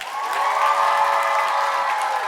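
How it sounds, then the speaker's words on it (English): Theatre audience at the Garrick applauding guests after a live show, a steady, even wash of many hands clapping at once, fairly loud and sustained with no voices over it. "Please give another huge round of applause to my incredible guests"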